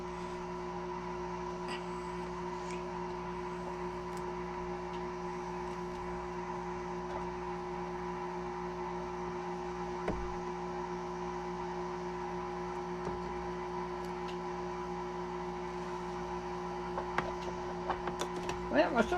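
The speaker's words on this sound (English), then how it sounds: "You can hear my air conditioner going on." Room air conditioner running steadily indoors beside a sewing setup, a constant low hum with stable tonal components, faint and continuous, with a few small clicks and knocks near the end.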